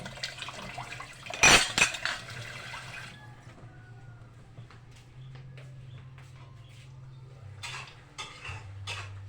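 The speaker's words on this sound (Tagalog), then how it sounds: "Hugasan natin ang hugason." Dishes, pots and pans being washed in a home kitchen, with clinking utensils, a loud burst of running water early on, then quieter scattered clatter over a steady low hum.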